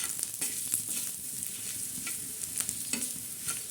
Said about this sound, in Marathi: आणि हे बघा हळद टाकत आहोत आणि हे मीठ टाकत आहोत चवीनुसार आता हे मस्त असं हलवून घेणार आहोत